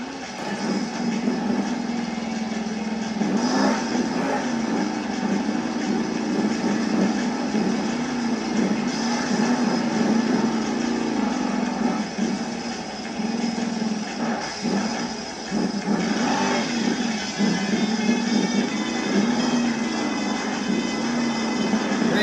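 Monster truck El Toro Loco engine at a Monster Jam stadium event in Indianapolis, a continuous loud droning rumble with crowd and arena noise washing over it throughout.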